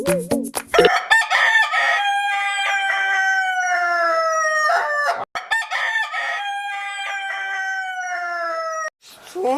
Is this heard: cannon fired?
no